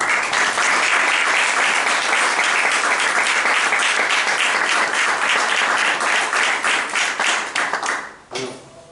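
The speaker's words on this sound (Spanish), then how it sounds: "Has visto que los chapetones te han aplaudido" Loud, sustained audience applause at a book presentation, dense clapping that carries on for several seconds before tapering off abruptly near the end.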